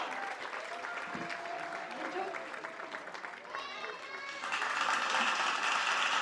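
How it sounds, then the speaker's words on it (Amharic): Applause at a kindergarten graduation ceremony, a dense crowd of clapping hands that holds steady and then swells louder near the end, with talk faintly underneath. "ጭብጨባ።"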